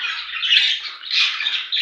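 A budgerigar squawks in harsh, raspy bursts, close and fairly loud, three chattering calls in quick succession with no other sound.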